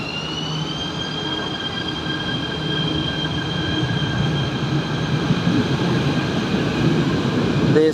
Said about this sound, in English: This is intercity train, ETS, electric train.